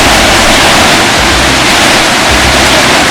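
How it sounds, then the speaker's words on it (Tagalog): Heavy downpour of rain lashing down in a storm, a loud, dense, steady roar with gusting surges, no voices over it. "kung nakikita nyo yung bugso tsaka naririnig nyo yung buhos"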